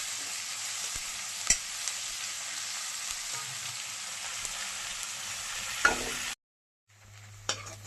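Chopped onion, ginger and green chili fry in a pan while being stirred, giving a steady close sizzle with occasional scraping taps of the spoon, which breaks off abruptly near the end before a quieter hiss resumes.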